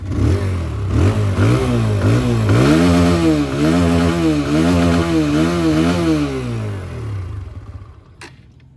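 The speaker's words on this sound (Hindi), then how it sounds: "अगर मैं इसको हल्का सा रेफ करता हूँ यहाँ पे" A TVS Apache RTR 160 2V motorcycle engine is blipped through a series of quick revs, each rising and falling in a rhythmic wave, loud and close. It then drops back toward idle before a short click at the end.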